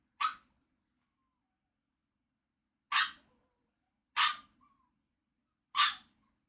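A puppy gives four sharp, separate barks, the first alone and the last three more closely spaced, close and clear against silence.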